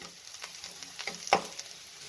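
Onion frying in a pan with a pinch of salt gives a soft, steady sizzle up close, with a few faint scrapes and one sharper tap from stirring.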